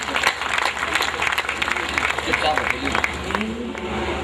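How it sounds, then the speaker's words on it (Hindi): Audience at a Hindi comedy-poetry gathering claps to welcome Dr. Vishnu Saxena, a brisk, lively round of applause with crowd noise and some overlapping voices underneath. "जोरदार तालियों से हम स्वागत करें डॉक्टर"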